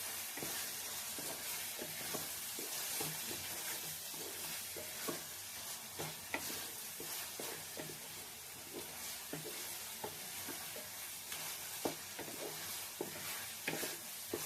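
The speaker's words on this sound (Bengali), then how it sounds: "আদা, জিরে, গোলমরিচ পেস্ট। এইটা দিয়ে নাড়তে হবে বেশ কিছুক্ষণ।" Chicken being stirred in a pan with coriander, ginger, cumin and black pepper paste, a continuous soft sizzle with irregular scraping and clacking of the spoon, without any talk.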